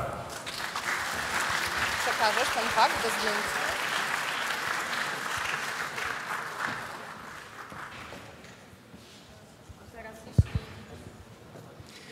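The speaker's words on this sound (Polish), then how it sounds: "I bardzo prosimy o brawa." Applause at a signing ceremony for an economic pact agreement, a moderate crowd clapping for several seconds before fading out, followed by a brief spoken line and a sharp knock near the end.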